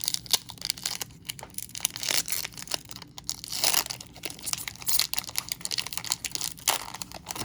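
Crinkly foil is torn and crumpled close up in bursts of rustling and ripping, with short pauses between tugs.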